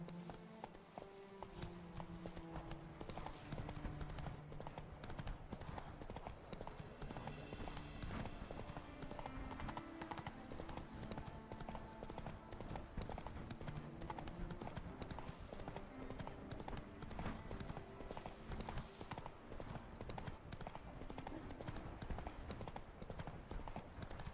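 Roach, a horse in The Witcher 3, gallops with a rapid, steady clip-clop of hooves throughout, layered over dense game music and ambience, with no pause in the rhythm.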